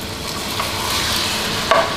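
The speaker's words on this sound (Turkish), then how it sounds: "yemek yapımındaki en güzel şey şu soğanın kavruluşu" Steady close sizzling of onions frying in a pan, with a faint clink of a utensil near the end.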